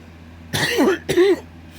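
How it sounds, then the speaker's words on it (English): Two harsh coughs, close and fairly loud, separated by a short pause, with a faint steady hum underneath. "I know I'm coughing a lot because I have respiratory problems"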